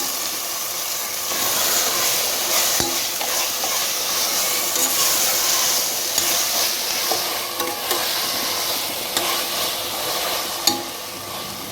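Vegetable biryani masala frying in oil, stirred steadily in a pot for a Chettinad-style veg biryani, giving a continuous close sizzle with scraping stirs and occasional clinks of the spoon.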